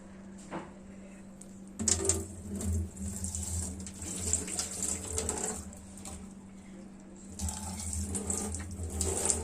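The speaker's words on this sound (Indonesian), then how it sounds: "Dan buang lagi airnya." Water poured out and splashing while soybeans are rinsed for tempeh, with a steady running, sloshing wash close by and louder bursts of pouring near the start and end.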